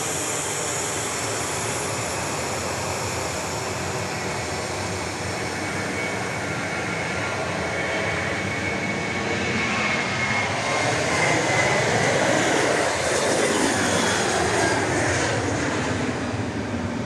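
A Boeing 737-700 jet departing Dallas Love Field makes a loud, steady broadband roar that swells slightly toward the end, with no voices.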